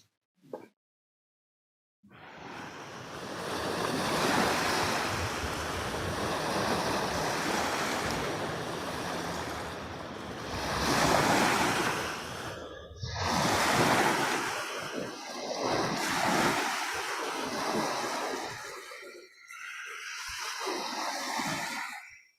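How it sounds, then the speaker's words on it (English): Waves on Lake Michigan rolling in and washing up the shore, a loud continuous surf hiss swelling and easing in broad surges with a little wind, after a brief quiet start. "Water sound of waves scrubs my brain clean"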